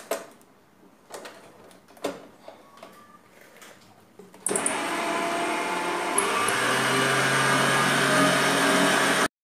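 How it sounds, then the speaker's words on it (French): An electric mixer whirs steadily as egg yolks are beaten with sugar for tiramisu, starting after a few sparse knocks and clatters and running loud and continuous to the end. "je vais essayer de battre, de mélanger les deux ingrédients"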